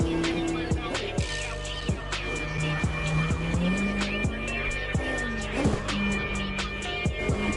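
A drifting car in the video game CarX: a sustained engine drone rising and falling in pitch with tire noise and sharp clicks, loud and continuous under occasional faint speech.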